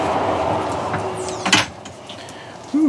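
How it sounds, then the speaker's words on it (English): A truck camper door on a 2025 or 2026 Bigfoot 10 camper swings shut with a short close thump and rattle, followed later by a brief squeak, against a steady background hum. "Let me shut this door here."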